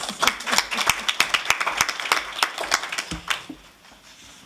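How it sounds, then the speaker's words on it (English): A single person clapping hands in a board of education meeting room, a quick steady run of sharp claps that slows and fades near the end. "I just had to clap"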